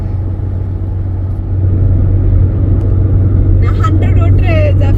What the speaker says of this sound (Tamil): ஸோ வந்து ஹைவேல நான் வந்து 100 ஸ்பீடில் வந்து ஓட்டுறேன்.